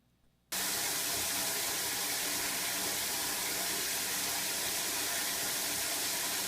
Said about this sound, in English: The longest flush of life.